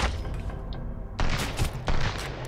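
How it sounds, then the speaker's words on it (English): Gunfire in the Sunkenland survival video game, a dense burst of rapid shots with two louder volleys partway through, heard close and without talk. "I hit somebody with gun"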